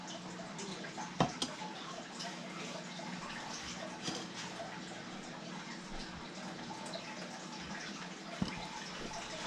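A quarter cup of water is poured during meal prep, giving a steady, soft trickle with a couple of brief clinks.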